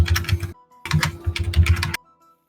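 Rapid clattering keystrokes on a computer keyboard, close and loud, in two dense bursts separated by a short pause, with no voices.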